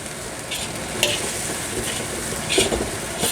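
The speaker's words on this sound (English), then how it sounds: "As I'm stirring, I'm sliding this guy around like this to try and spread it out" Fried rice being stirred in a hot pan, with a constant sizzling hiss and a few sharp scrapes and clinks of the utensil against the metal.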